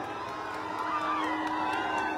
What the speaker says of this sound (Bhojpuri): तालियां जोरदार बननी चाहिए